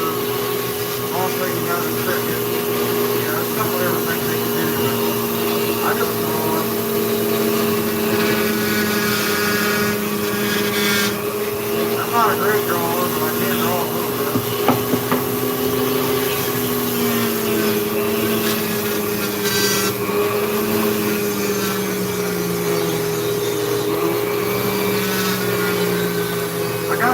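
A flex shaft rotary tool, run by a foot pedal, carves wood with a steady motor whine that shifts in pitch as the speed changes. It carries on through the whole stretch, with a voice talking over it at times.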